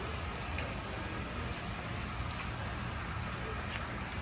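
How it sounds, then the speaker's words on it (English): Rain falling at Shibaseki Onsen in Beppu, Japan, a steady dense hiss of drops on surfaces, constant and even throughout, with no distinct voices. "We often complain about the rain, but it's a vital blessing."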